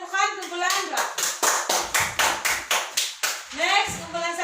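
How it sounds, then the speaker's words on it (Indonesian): Pupils in a classroom do a group clap: a rhythmic pattern of sharp, evenly spaced claps, nine or ten in a row, with children's voices chanting at the start and end. "bagi tepukan kumpulan enggak?"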